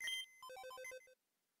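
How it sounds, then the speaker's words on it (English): A chiptune phone ringtone from the Pokemon Empyrean video game plays as a quick run of bright electronic beeps after a brief burst of game noise, then cuts to silence. "My phone is ringing."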